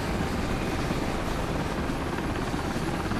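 A helicopter in the zombie video game Contagion during an evacuation, its rotor throbbing as a loud, continuous, broadband drone that holds steady throughout, with no talking.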